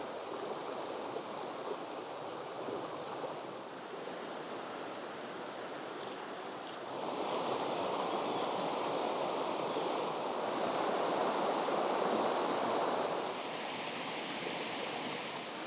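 A Smoky Mountain waterfall with only light flow pours steadily, a continuous broad rushing wash heard from nearby, swelling slightly louder midway and then easing back, with no voices.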